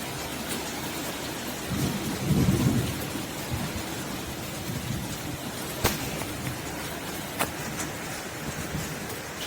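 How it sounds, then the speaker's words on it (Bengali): Heavy rain pours steadily with occasional thunder: a low rumble swells near the start, followed later by a couple of sharp cracks, all under constant hissing rainfall. "মাঝে মাঝে বাজও পড়ছে"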